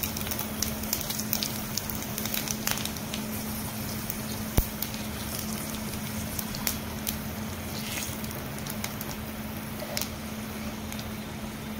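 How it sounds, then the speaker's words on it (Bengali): Dry chillies, bay leaves and five-spice crackle in hot oil, a quiet, continuous sizzle broken by small pops and spits, over a low steady hum. "এবার আমরা গরম তেলে শুকনো লঙ্কা, তেজপাতা, পাঁচফোড়ন সম্বাসে দিয়ে দিলাম।"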